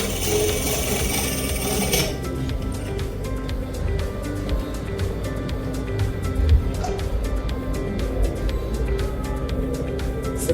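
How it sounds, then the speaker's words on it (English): A sewing machine stitches the center back seam of a bustier, running in a steady, rapid mechanical patter close by after a brief burst of noise at the start. "So now I'm going to be sewing the other end at the center back."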